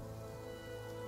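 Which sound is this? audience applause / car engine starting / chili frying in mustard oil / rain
rain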